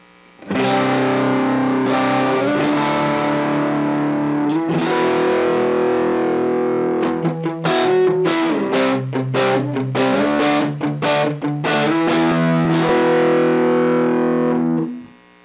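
Electric guitar through the Wah-Stone Choral Overdrive distortion effect on an M-VAVE Cube Baby amp, gain near 12 o'clock, playing sustained chords and then quick choppy strums, loud and gritty throughout with no talking.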